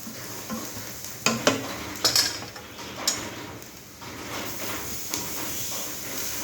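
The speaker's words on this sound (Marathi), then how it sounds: "हे सगळे साहित्य छान मिक्स करून घेऊ आणि छान गुलाबी रंगावर भाजून घेऊ" Black masala and salt roast in a pan for a bitter gourd dish, with a soft sizzle under irregular scraping and stirring strokes of a spoon that knock against the pan several times.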